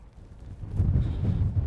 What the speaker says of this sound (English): Wind is probably about 20 miles an hour at the moment